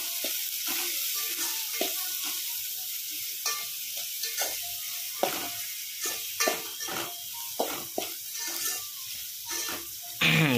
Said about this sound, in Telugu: ఆనియన్ బ్రౌన్ కలర్ వచ్చే వరకు బాగా ఎగనిచ్చుకోవాలి.